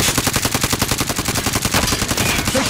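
Loud, sustained automatic gunfire from Call of Duty Warzone, a fast steady rattle of shots that runs unbroken with no voices over it.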